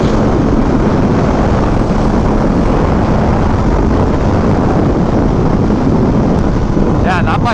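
Heavy, constant wind roar from riding an MV Agusta Brutale motorcycle, loud and close, with engine and road noise buried under wind buffeting throughout.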